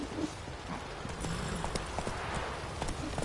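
Horse hooves trot in a video game, a quick steady clip-clop rhythm heard close over a dense, constant ambient bed.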